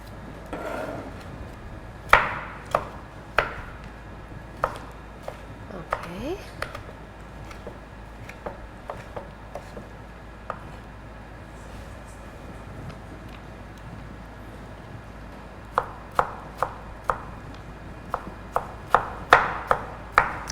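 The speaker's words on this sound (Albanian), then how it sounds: "një domate të grirë në kubik të vegjël" Knife chopping fresh tomato into small cubes on a board in a home kitchen, sharp taps in irregular bursts, then a brisk rapid run near the end, with quiet pauses between.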